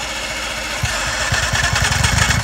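A 50 HP outboard motor fitted to a canoe, with a rough chugging idle that picks up partway through into louder, faster rhythmic pulses close by.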